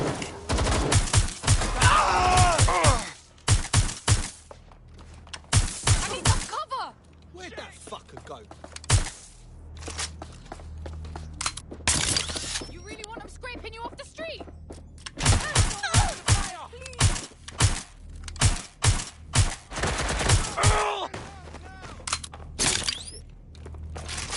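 Watch Dogs Legion gunfire erupts in loud, close bursts and single sharp shots, broken by lulls and mixed with shouted voices.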